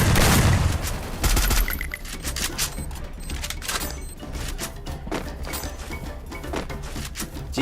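Video game gunfire in a solo-versus-squad battle royale match: a heavy opening burst, then repeated sharp shots and short volleys scattered across the scene at moderate loudness, with no talk.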